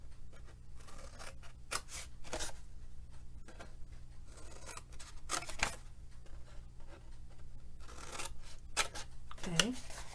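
Scissors snip through cardstock along a score line while shaping a small stamped flip-top treat box, producing short dry cuts and rasping strokes repeated close up, with faint speech in the background.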